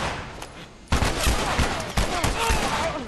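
Gunfire in The Last of Us Part 2 erupts after a quiet opening, with a close, loud volley of overlapping shots that continues, repeats around the second mark and keeps echoing to the end.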